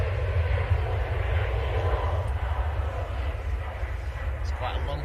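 A TUI Boeing 737 MAX airliner at Manchester Airport roars as a steady, deep engine rumble heard from outdoors, constant throughout with faint distant airport noise in the background.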